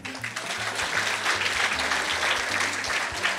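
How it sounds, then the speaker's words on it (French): An audience at a French-language holiday show applauds steadily, a bright, even patter of many hands, with a low voice speaking faintly underneath. "Oui, une bonne main d'applaudissement."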